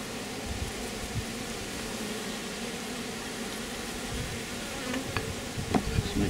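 Honey bees buzz at a new Quadratic hive, a soft continuous hum with a few louder close passes near the end; no talking.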